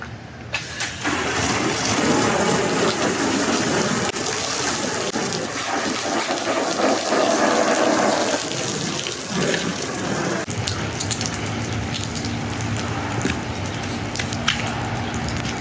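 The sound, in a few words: spraying water with a hose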